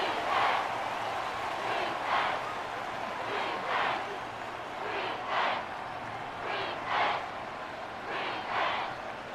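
Stadium crowd noise in a Madden 24 American football game simulation between the Raiders and Texans: a continuous roar of cheering fans with rhythmic swells, steady and fairly loud throughout.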